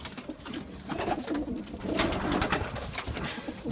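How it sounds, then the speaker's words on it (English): Racing pigeons coo softly and repeatedly in a loft, including a small mealy pied bird, with a steady low murmur of cooing running throughout. "it's another half stick pigeon, Dave's."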